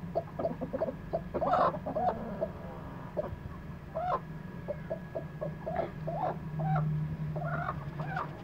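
An Aseel hen clucks and her eleven newly hatched chicks peep repeatedly in short, irregular bursts at close range, over a low background hum.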